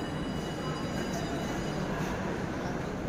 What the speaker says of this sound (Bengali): দেখতে পাচ্ছ এটা মেট্রো স্টেশন